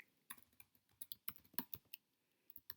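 A web address being typed on a computer keyboard: a quick, irregular run of light key clicks, close but quiet, with no talk.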